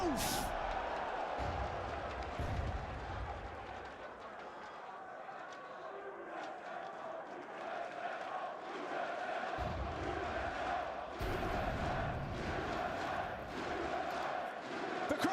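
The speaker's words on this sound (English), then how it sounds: "The crowd's had enough." Loud esports arena crowd roaring and cheering during a Counter-Strike championship match, a dense sustained wall of voices with surges and swells throughout.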